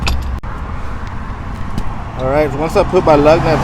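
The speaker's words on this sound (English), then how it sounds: "sorry, all these cars passing by" Traffic on a roadside rumbles steadily past a car with a flat tire being swapped for a spare, a low broad wash of passing cars under a man's nearby speech.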